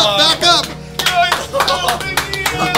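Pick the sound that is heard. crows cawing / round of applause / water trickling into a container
round of applause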